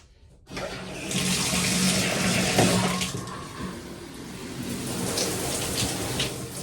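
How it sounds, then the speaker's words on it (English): A shower is switched on and water runs steadily, a loud continuous hiss of spray close by with no talking. "I'm gonna turn on the water"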